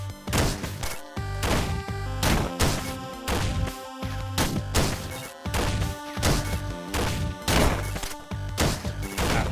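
Shotgun blasts in the video game Downwell, a rapid series of sharp, crunchy bursts fired in clusters with brief gaps, loud and punchy over a looping chiptune-style backdrop.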